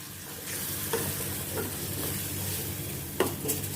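Spice paste for a black chickpea (kala chana) curry stirred and sautéing in a pan, a steady close sizzle with a few louder scraping stirs, no talking.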